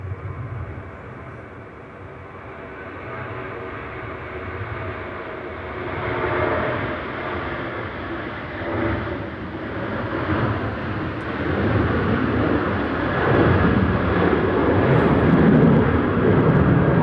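A Malta Air Boeing 737-800 takes off from gusty Manchester Airport bound for Copenhagen, its jet roar building steadily from a moderate rumble to a loud, broad sustained thrust over the whole stretch, with no voices.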